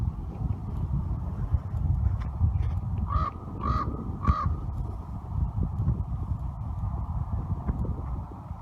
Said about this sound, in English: If you want to make a crow laugh at you, just be serious.